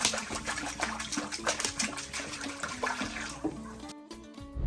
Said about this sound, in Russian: Наливаем воду.